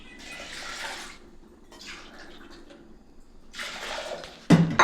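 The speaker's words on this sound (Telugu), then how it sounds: "ఇప్పుడు 2 గ్లాసులు వాటర్ వేసుకోండి." Two glasses of water poured into a cooking pot, heard as three separate splashing gushes, moderately loud and close, followed by a sharp clatter at the end.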